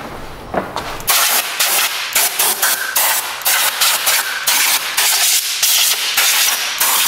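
Compressed air blasts in short repeated bursts across the engine bay of a Land Rover Discovery 4, blowing dust off the engine; loud, close hissing with brief gaps between blasts, no talking.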